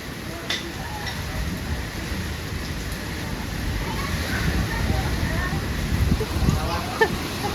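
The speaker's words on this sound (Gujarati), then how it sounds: "નથી એટલો પવન ને એટલો વરસાદ બે હારે છે" A severe storm brings heavy rain and strong wind in a steady, loud, broadband roar that swells slightly toward the end, with a voice talking over it.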